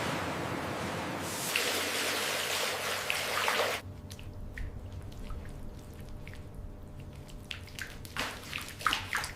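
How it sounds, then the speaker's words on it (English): Water rushes and splashes loudly in multi-stage banana stem washing tanks at a factory, then drops to a lighter trickle with scattered drips and splashes. "Multi-stage washing tanks use counter-current flow to maximize cleaning efficiency and dilute"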